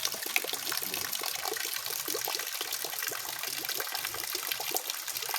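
Water running in a garden during rain, a faint steady trickle and splashing flow with small irregular droplet patters throughout.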